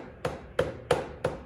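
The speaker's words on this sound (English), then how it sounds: "I'm trying to use the rubber part of my hammer here so as not to scratch up this" Four evenly spaced, dull taps of a rubber-faced hammer on the blue primary cover of a 1972 Harley-Davidson FX Shovelhead motorcycle, close and fairly quiet with no talk.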